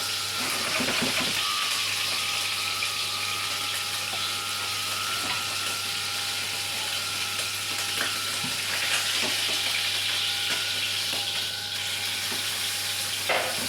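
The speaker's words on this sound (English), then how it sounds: "The pan is hot, and I hear that it's hot. We put the animal into the pan." Duck searing in a hot pan, a steady close sizzle and hiss of fat frying that holds evenly throughout with faint clinks, no talk.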